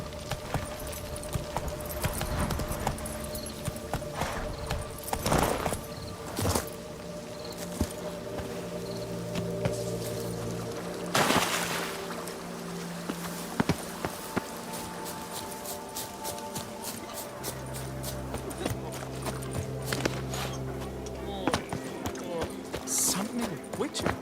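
Roach, Geralt's horse in The Witcher 3, clip-clops along in a steady rhythm of hooves, moderately close, mixed with game ambience, jingling tack and occasional voices speaking.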